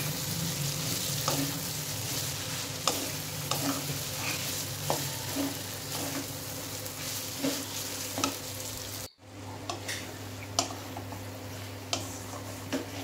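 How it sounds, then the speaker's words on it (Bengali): Fried potatoes being stirred into spice masala in a pan while cooking an aloo paneer curry with capsicum, with a steady sizzle and scattered spatula clicks and scrapes, a short break partway, then more sizzling and stirring. "এবার আমি ভেজে রাখা আলু মশলার মধ্যে দিয়ে আরেকটু ভালোভাবে কষিয়ে নেব"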